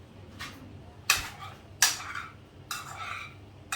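Olive oil and corn flour stirred together with a spoon in a bowl, a few sharp scraping clinks of the spoon against the dish over a quiet background, close and moderately loud.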